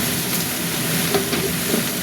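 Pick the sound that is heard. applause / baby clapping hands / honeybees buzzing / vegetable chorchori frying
vegetable chorchori frying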